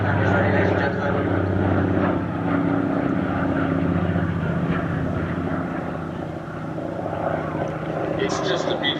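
Lockheed 12A Electra twin-engine airplane flying at the Sywell airshow, a steady droning propeller and engine hum heard at moderate distance beneath a commentator's voice.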